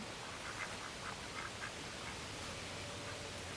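Two pet ducks give a few faint, short quacks early on against a soft hiss of background noise. The quacks are quiet and seem distant.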